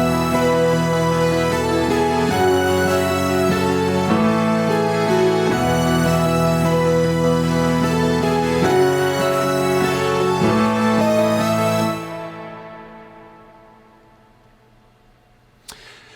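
A synth keyboard plays the intro of a song with an Omnisphere patch: sustained layered chords changing every few seconds, full and steady, then fading out into a long decaying tail.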